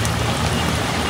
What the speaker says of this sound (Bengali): এই তো পেঁয়াজু ভাজা শুরু হয়ে গেছে